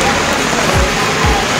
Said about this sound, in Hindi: बहुत तेज़ हवा के साथ बारिश हो रही है।